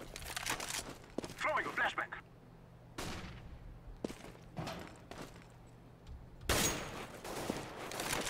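Gunfire from Counter-Strike on de_dust2 during a DreamHack tournament match, scattered bursts and sharp shots at varying distances, mostly under a commentator talking in German.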